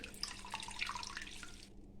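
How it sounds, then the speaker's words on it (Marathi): Water drips and trickles faintly as grated potato is squeezed by hand, a soft, close, continuous splatter that cuts off near the end. "हा बटाटा पिळून ह्याच्यामध्ये टाकायचा पाणी पूर्ण त्याच्यातलं काढून घ्यायचं हे असं पिळून"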